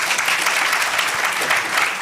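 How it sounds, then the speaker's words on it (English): Dense, even applause from a crowd at a citizen assembly on debt and anti-corruption, a steady close wash of many hands clapping with no break. "All right, we clap for him once more."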